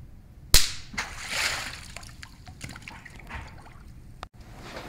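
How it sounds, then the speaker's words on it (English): A clean plunger yanked out of water in a theatre Foley demonstration gives a sharp splashy pop, followed by a few seconds of water splashing and trickling back down, fairly close and alone. "a plunger, a clean plunger out of the water, and the sound of the water falling back in"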